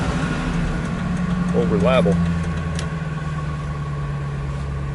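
An old truck engine turns over and settles into a steady idle, a continuous low rumble with a faint whine, while someone speaks briefly over it.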